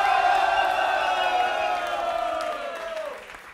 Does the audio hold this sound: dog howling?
no